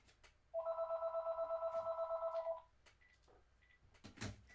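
A telephone rings once in a trilling electronic burst lasting about two seconds, fairly close in a quiet room, followed by faint rustling and a couple of soft knocks.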